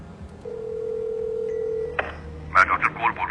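A telephone call begins with a steady single tone that gives way to short, warbling ring bursts, fairly close and clear over a faint background hum.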